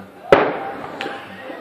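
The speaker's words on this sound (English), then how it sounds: "You can see just all those fireworks going off in the background." New Year's fireworks bang in the distance, one sharp crack followed by a fainter second burst with a trailing rumble, against a quiet background.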